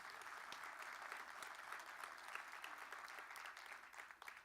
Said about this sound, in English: Yes, that's worthy of applause.